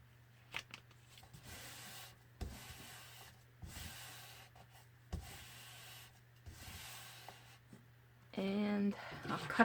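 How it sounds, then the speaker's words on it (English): A glue stick is rubbed onto a scrap of paper in repeated short scraping strokes, soft and close, with a louder rustle of paper at the end. "I'm going to use just this glue stick."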